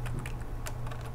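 Quick keystrokes on a computer keyboard, a shortcut pressed during architectural CAD drafting, a few soft clicks close by over a low steady hum.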